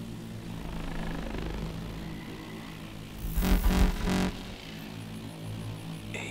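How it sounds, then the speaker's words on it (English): A drone from Call of Duty: Advanced Warfare passes overhead, its buzzing rotor whir swelling briefly over steady background hum, then fading back into the ambient game soundscape. "Drone. Don't move."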